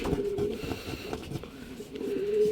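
Racing pigeons at the loft after a fun race, giving soft, low cooing calls close by over quiet background noise.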